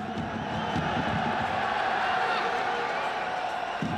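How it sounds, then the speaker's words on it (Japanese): Football supporters at a Ventforet Kofu match jeer from the stands at half time, a dense, steady crowd roar that stays loud and continuous throughout, with no single voice standing out. "サポーターからもブーイングが飛び交います"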